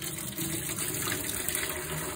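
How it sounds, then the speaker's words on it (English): Water carrying rinsed garden seeds pours steadily through a kitchen strainer, a close, loud continuous gush that runs without pause and cuts off abruptly at the end. "we'll pour it through a strainer"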